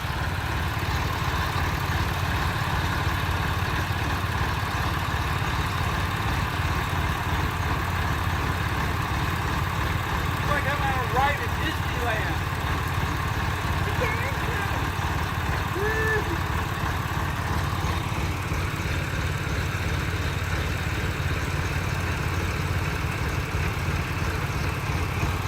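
A tractor engine idles continuously at a constant drone, with faint voices and a few brief squeaks in the background.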